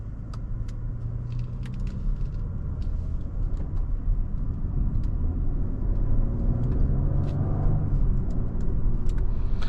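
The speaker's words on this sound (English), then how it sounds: "Let's pop it into drive. We'll start off in comfort mode and let's head off." A 2026 Genesis G90 luxury sedan pulls away in comfort mode, giving a low, smooth cabin rumble with faint road noise and small ticking clicks, steady and subdued throughout, no speech.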